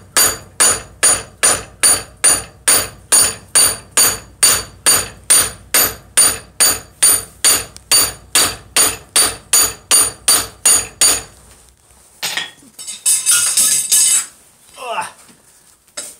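A hammer strikes hot metal during a vice-forging demonstration, landing about two dozen loud, evenly spaced ringing blows, then a brief clatter of metal being handled.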